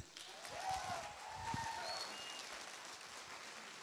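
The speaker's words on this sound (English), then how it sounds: "I think that performance deserves another round of applause." Audience applause for a performance at a club event, a soft, fairly distant patter of clapping that swells and then tapers off over a few seconds.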